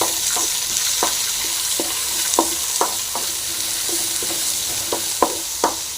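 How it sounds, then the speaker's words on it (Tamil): Onions frying in a pan for a Tamil ridge gourd poriyal, a steady sizzle with a spoon scraping and tapping the pan in irregular strokes, close and fairly loud, no talking. "வெங்காயம் சேர்த்துட்டு நல்லா ஃப்ரை பண்ணிங்க"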